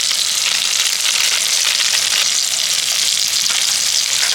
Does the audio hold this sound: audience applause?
no